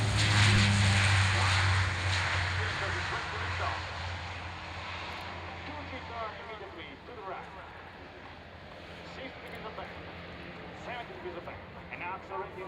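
A display jet taking off at the Royal International Air Tattoo 2011 gives a low engine rumble that fades into the distance while an announcer talks over it.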